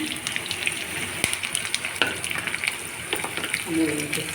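Tempering spices with garlic and onion sizzle and crackle in hot oil for palakura pappu, a steady frying hiss with occasional pops and stirring clinks close by.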